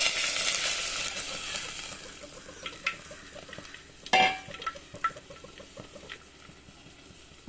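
Second and third coconut milk, pressed from half a coconut, poured into a chicken curry pan with dried red chillies: a brief hissing pour at the start, then a few scattered clinks and soft stirring sounds.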